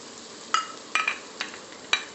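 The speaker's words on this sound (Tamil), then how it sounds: "அதையும் இந்த நெய்யில் போட்டு நல்லா வதக்கிப்போம்." Grated coconut frying in ghee gives a faint, quiet sizzle, broken by a few sharp scrapes and taps of a spoon stirring the pan.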